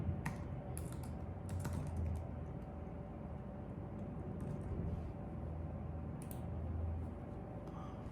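Steady, fast typing on a computer keyboard entering a prompt into ChatGPT, a close run of soft key clicks with occasional sharper taps over a faint background hum.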